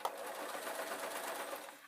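A sewing machine stitching two fabric layers of a witch hat rim to the hat, a continuous close whirring run of rapid stitches at moderate volume, no voices.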